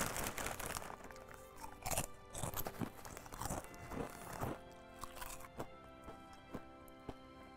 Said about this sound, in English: Tip number two, avoid loud snacks.